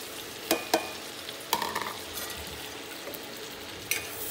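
Onion and garlic fry in a pan, a soft continuous sizzle punctuated by a few sharp utensil knocks and scrapes, close by with no talking.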